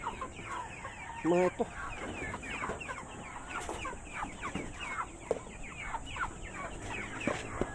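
Pet geese and ducks squabble in a farmyard, giving busy honks, quacks and clucking calls that overlap near and far, with one louder burst, as someone speaks briefly.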